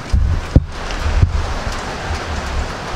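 Rain falling outdoors, a dense steady patter with a couple of louder close drips or taps, with no voices.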